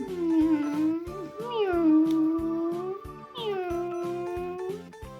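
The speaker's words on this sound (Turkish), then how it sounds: "Sanırım bir kedicik bu Cilim." A toy cat meows repeatedly in long, drawn-out, high-pitched cries, close and clear, with a steady rhythmic backing underneath.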